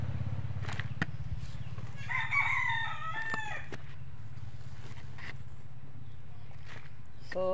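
A rooster crows once in the mid-distance, a wavering call lasting about two seconds over a low steady hum, with a few soft clicks and knocks around it outdoors.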